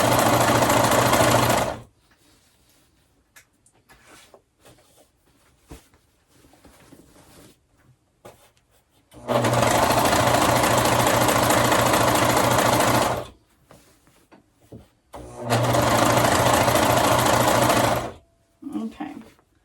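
Sewing machine stitching skirt fabric in loud steady bursts of a few seconds each, separated by quieter pauses where a person talks and handles the cloth.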